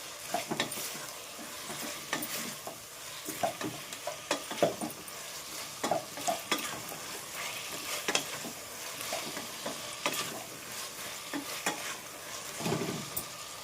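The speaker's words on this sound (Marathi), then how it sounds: "मीठ चवीसाठी मिक्स करणार आता" A spoon stirs salt into dal and rice khichdi in a pot, with rhythmic scraping strokes and soft clinks recurring every second or so over a faint low simmer, close and moderately quiet.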